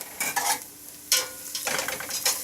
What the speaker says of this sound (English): Let your onions cook down a little bit.